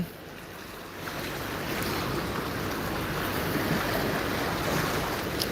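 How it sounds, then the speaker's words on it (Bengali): Sea waves and wind at Digha Mohana beach, where fishing boats come in: a steady, continuous roar of surf mixed with gusty wind buffeting the microphone, with no voices. "আজকে এই মুহূর্তে রয়েছি দীঘা মোহনা সমুদ্র সৈকতে"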